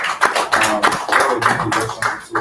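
An audience at a young CEOs' business summit claps for a lawyer, with a short burst of scattered, close applause and loud individual hand claps over about two seconds.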